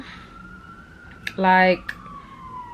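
An emergency vehicle siren wails faintly outside in a New York City setting, a steady tone heard under a brief spoken word and household noises.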